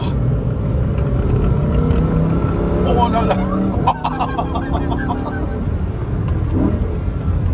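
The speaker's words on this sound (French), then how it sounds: "Il y a des putains de retours d'échappement." Lamborghini Huracán STO with 640 hp at night: a loud roaring engine breaks into a cluster of sharp exhaust crackles and pops, with an excited voice exclaiming nearby.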